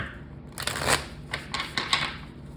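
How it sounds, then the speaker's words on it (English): Tarot cards shuffled by hand, a quick series of crisp riffling bursts at close range, several short flurries in a row in a quiet room. "Okay, one more shuffle here."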